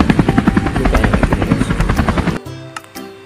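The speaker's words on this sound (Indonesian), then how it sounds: "Ini ada helikopter." A helicopter from a Minecraft PE vehicle addon beats loudly with rapid rotor chops and a buzzing drone, close and steady, then cuts off abruptly near the end.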